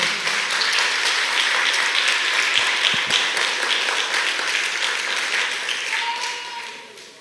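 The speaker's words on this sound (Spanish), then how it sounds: "Denle un aplauso a Dios" A church congregation bursts into loud, sustained applause, a dense roar of many hands clapping that gradually thins toward the end, with a faint voice surfacing late.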